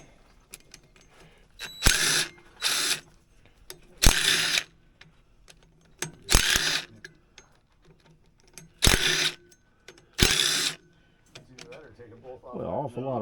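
A wrench works loose the fasteners holding the pulleys on a vintage Polaris RXL, with about seven short, sharp ratcheting bursts spaced a second or two apart and quiet gaps between them.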